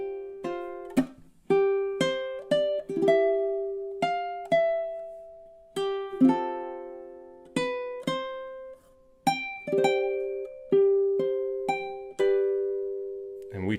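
Plucked ukulele notes and strums playing the bridge of a song, clear, close and ringing, with regular attacks that decay between them, played alone without talk.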